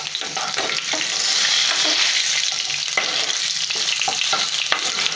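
Green chilli and salt sizzle and fry steadily in a hot pan while being stirred for a prawn curry, the bright hiss continuous with small scraping stir sounds throughout.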